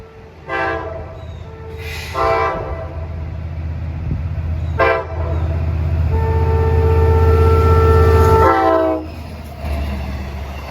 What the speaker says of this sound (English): Approaching eastbound is 2770 Babylon Patchogue at 249 with the 405 on the point.